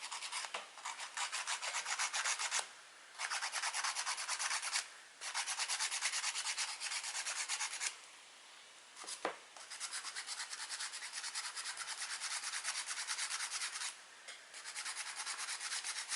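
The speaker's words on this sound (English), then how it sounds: "I'm just using a regular nail file and sanding it down" Steady rasping of a regular nail file sanding down a bling pen, continuous strokes with a few brief pauses, close and fairly loud.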